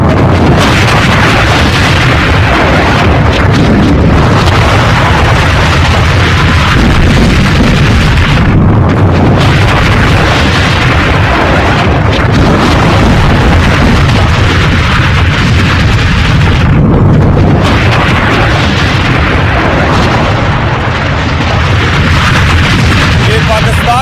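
Missile air strikes by Pakistan on Afghanistan roar as loud, sustained blasts and rumbling, with a few brief lulls and heavy wind buffeting across the whole stretch.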